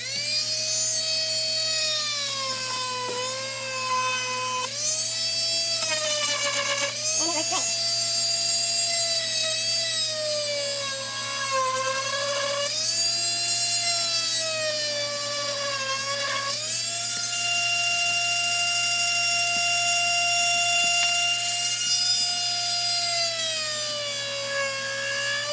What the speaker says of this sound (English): I'm gonna go ahead and just use the Dremel tool again and see if it works for this.